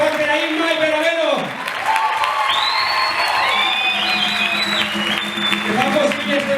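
Concert audience applauding at a Christmas show featuring dancers and a theatre group, steady dense clapping with some cheering and voices mixed in, sustained throughout at a fairly loud level.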